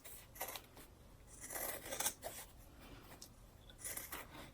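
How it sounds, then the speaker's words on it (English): Scissors snip close by through excess fabric on a zipper bag, giving a series of quiet, crisp cuts separated by brief pauses, with no speech. "You're just cutting all the excess of your bag off."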